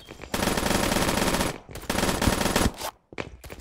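Automatic gunfire from Battlefield 2042 gun game mode, long loud sustained bursts of rapid shots separated by brief pauses, close and dominant with no talking.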